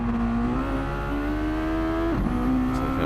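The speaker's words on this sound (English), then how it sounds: "maxing out the revs." A Mazda Roadster engine in the Gran Turismo 7 racing game at Bathurst revs hard and steadily near the limit, pitch stepping up through gear changes with a brief dip before climbing again, loud and continuous.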